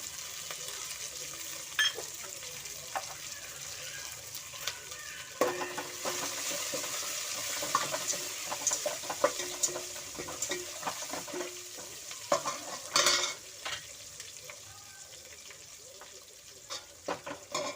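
Steady oil sizzle with chopped onions frying in a tempering of dried and green chillies and curry leaves, punctuated by occasional stirring scrapes and clinks, close and continuous throughout.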